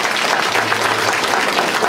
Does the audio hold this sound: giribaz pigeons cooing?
no